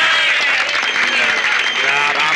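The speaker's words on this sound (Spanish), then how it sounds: "un aplauso para él" Studio audience applause greets an arriving guest on a 1981 television-comedy set, a dense, loud burst of clapping lasting a couple of seconds, with voices and cheering mixed in.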